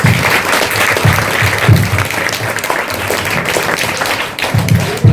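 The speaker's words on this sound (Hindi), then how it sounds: "जोरदार तालियां शेर के लिए।" A primary school audience at an Urdu couplet competition gives loud, continuous applause, a dense close-up wash of clapping that keeps going for about five seconds.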